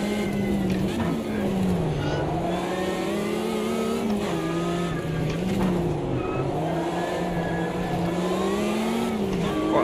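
A race car engine in Automobilista 2 revs hard and steadily with wheels spinning up a hill, its pitch rising and dipping as it strains under load, loud and close throughout.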